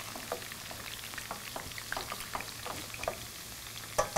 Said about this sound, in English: I've got my last batch of okra going